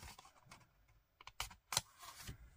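A large paper card is folded in half, giving soft rustles and a few quick, close crisp creasing crackles.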